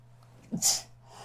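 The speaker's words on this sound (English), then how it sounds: "I got the sneezes" A single sudden human sneeze, close and fairly loud, with a short breathy intake leading into it and quiet room tone before and after.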